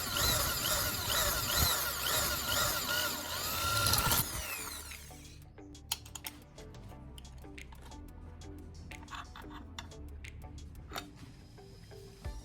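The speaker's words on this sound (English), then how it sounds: "with a small drill bit, I'll drill a hole through the fork's handle" Small drill bit boring a hole through a metal fork handle, a high whining drill run for about four seconds that cuts off abruptly, followed by scattered clicks, taps and light mechanical handling sounds.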